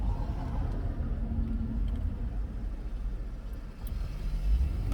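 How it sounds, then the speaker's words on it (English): A big truck rolls past outside a parked vehicle, its deep steady engine rumble close and fairly loud, with a slight dip and swell near the end as it moves by. "Here go a big old truck"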